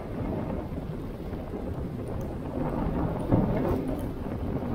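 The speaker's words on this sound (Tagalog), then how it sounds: "Biglang bumabagsak yung malakas na hangin" Heavy, roaring typhoon wind buffets the microphone in a continuous low rumble, swelling into stronger gusts toward the end.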